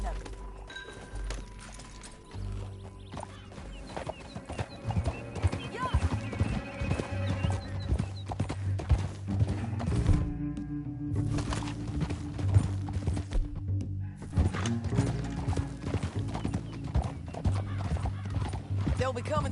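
Horse hooves gallop in the video game Red Dead Redemption 2, a rapid, continuous clip-clop rhythm with an occasional whinny, mixed with other game sounds and voices.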